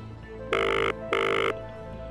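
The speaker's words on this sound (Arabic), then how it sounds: "ردي على التليفون" On a live Arabic television program, a telephone rings in two bursts of a bright electronic trill, each about a second long with a short gap between, over a low steady background hum.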